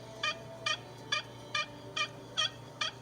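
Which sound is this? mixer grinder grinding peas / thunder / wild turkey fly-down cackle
wild turkey fly-down cackle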